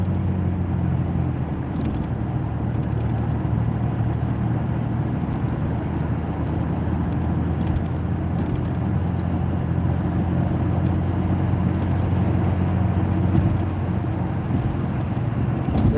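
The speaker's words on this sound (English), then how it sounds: "This is heavy traffic." Heavy metro road traffic heard from inside a moving car, a steady low rumble of engines and tyres with a constant drone and no break throughout.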